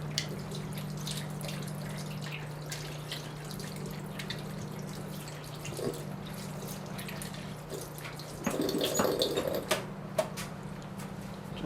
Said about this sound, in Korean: 이 부분도 물 한번 씻어서 가식 부위 물 쪽에 담가 놓도록 하겠습니다.